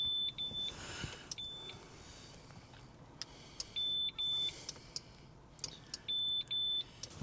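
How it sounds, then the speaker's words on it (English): Short electronic beeps from a car switch module come in quick clusters, a few longer tones mixed in, over faint rumbling cabin noise. No talking. "we're going to get some sort of beeping or something from the switch."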